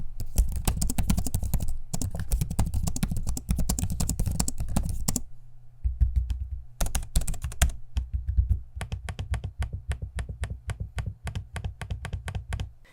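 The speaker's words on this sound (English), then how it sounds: "Here's a quick sample of me using the keyboard and trackpad so you can hear what it sounds like for yourself." Close, crisp typing on an MSI Cyborg 14 laptop keyboard with trackpad clicks, a steady rapid clatter with a short pause midway before resuming.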